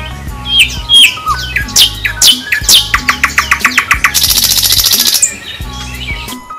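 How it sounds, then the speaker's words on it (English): A nightingale sings close and loud, with varied whistles and chirps, then a fast run of repeated notes building into a rapid buzzing trill before trailing off, with no voices. "So now you know just how beautiful the voice of a nightingale truly is."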